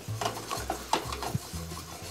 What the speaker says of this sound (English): we just want to let this red wine cook for just a few moments